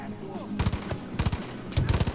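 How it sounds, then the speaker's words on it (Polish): Gunfire from an enemy shooter in Far Cry 5, with three separate bursts of rapid shots cracking out in quick succession over a low game ambience, loud and close. "To tam z bloku strzela jakiś dupek"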